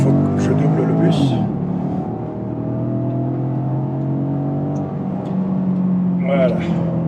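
A car overtaking a bus on a road leading toward a mountain route, heard as a steady close engine drone with the revs climbing and shifting, and a brief higher whine near the end.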